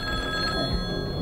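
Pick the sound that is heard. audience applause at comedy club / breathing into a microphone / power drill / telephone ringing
telephone ringing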